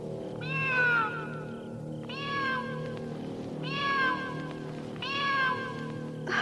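A cat meows four times at an even pace over a steady low hum, each cry drawn out and fairly close.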